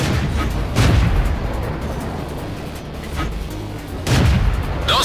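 Tank cannon shots in World of Tanks, with the Matilda tank on the Cliff map: two loud booming blasts about three seconds apart, each a sharp broadband crack with a low rumble, over steady engine and battle noise.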